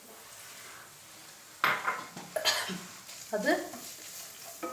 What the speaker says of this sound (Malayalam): നല്ലോണം വഴറ്റിയെടുക്കുക.